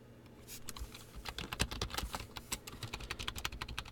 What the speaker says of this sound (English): I'm going to start typing up the divider